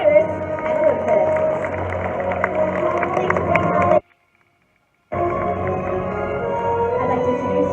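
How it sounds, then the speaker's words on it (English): Theme park crowd at an animal actors show applauds trained birds Iris and Olympus, a broad roar of clapping and cheering with a voice over it, cut by a second of silence before resuming. "Applause for Iris and Olympus."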